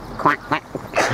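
Ducks quacking on the water, four or five short nasal quacks in quick succession, close and clear over faint outdoor background.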